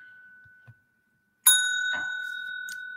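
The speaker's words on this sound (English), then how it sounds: "I don't know if I rang the bell for you to see that" A single small bell is struck once, giving a sharp, clear ding that rings on as a long, steady tone and fades slowly, heard alone in a quiet room.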